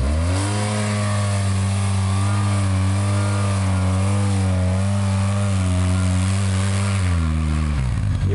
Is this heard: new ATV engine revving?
yes